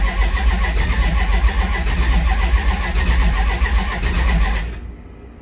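A big block V8 in a Duster starting up for the first time: the starter cranks into a loud, close, throbbing rumble that runs rough and uneven for several seconds before cutting off abruptly.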